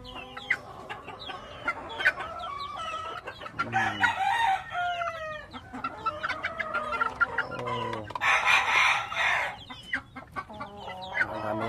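Young NUDC Dome pullets cluck and chirp nearby in a busy, overlapping chorus of short calls, with a few louder squawking outbursts rising above the steady chatter.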